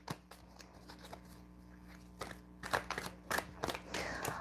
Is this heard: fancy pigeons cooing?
no